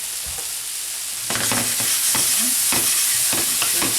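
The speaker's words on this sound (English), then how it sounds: "Mix all that together." Vegetables and steak stirred in a hot frying pan, with a continuous sizzle and repeated scraping strokes that turn louder partway through; close and clear, with no talk.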